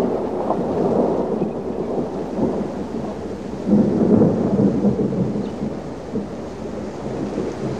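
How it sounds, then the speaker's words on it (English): A heavy thunderstorm rumbles over the Luangwa valley, with deep rolling thunder and steady rain lasting the whole stretch and swelling louder partway through; no voices. "Throughout December, the storms become more frequent."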